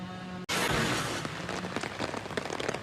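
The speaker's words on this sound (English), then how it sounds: "the rain is picking up" Steady heavy rain pours outdoors in Waikiki after overnight winds, a dense continuous wash of drops that swells louder after a brief dropout near the start.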